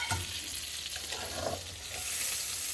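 Butter sizzles and fries in a pan on an Indian home stove while a spoon stirs, a steady close crackle with soft scraping and no talk.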